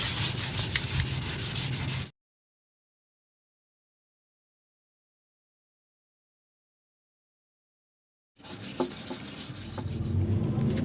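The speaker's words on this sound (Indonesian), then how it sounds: "Kita amplas seluruh bagian termasuk ring-ringnya ini." Rhythmic rubbing and scraping of sandpaper on a wooden bird cage and its rings, close and steady, cut by a long stretch of silence before the sanding resumes.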